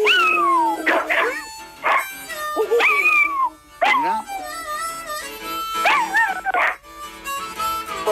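A dog howls on command in a long run of close, wavering, pitch-sliding yowls and yips, sounding almost like singing, with brief breaks between phrases.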